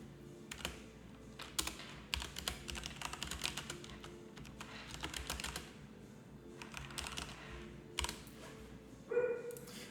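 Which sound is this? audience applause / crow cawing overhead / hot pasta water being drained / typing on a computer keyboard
typing on a computer keyboard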